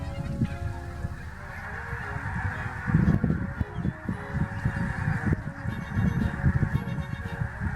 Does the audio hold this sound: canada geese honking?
yes